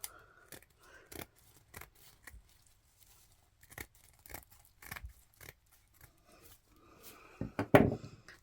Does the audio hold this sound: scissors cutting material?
yes